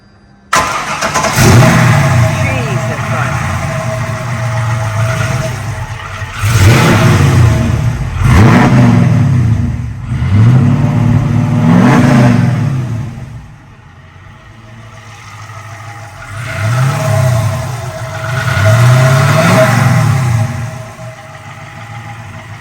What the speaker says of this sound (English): let's hear the Gas Monkey El Camino